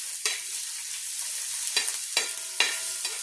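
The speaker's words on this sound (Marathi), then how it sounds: "आता कांदा आजीने चांगला लाल असा भाजून घ्यायला लावलेला आहे. भाजून म्हणजे तेलात तळून." Onion frying in oil in a pan, a soft continuous sizzle punctuated by four or five distinct scraping stirs of a utensil, close and fairly quiet.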